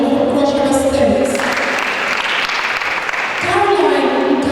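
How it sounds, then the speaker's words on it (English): An audience of parents applauds at a season opening ceremony, a broad burst of clapping in the middle of the clip while an announcer reads names over a loudspeaker at either end. "Please parents keep clapping."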